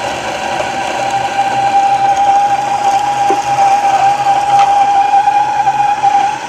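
A Gemilai 3007Z espresso machine's built-in grinder runs steadily, grinding Brazil Cerrado coffee beans in a continuous loud whirring hum with a high whine throughout, no speech over it.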